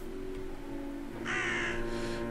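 Crow cawing in the video game Drake Hollow, a single harsh call rising over a steady droning in-game ambience, fairly close and clear.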